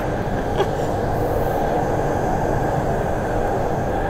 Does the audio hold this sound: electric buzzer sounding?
no